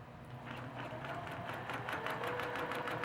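A sewing machine stitches across a quilt row of fabric, running as a steady, continuous mechanical whir with a faint rhythmic needle patter throughout, moderately quiet and with no talking over it.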